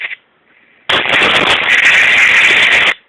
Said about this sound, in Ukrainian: сама по собі дуга, офігеть